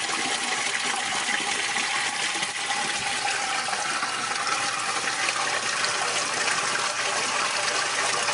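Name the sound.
RO water pouring into fish tank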